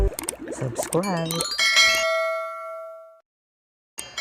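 Bright notification bell ding rings out after a short burst of busy sound, its clear tone decaying over about two seconds before silence and a brief return of noise.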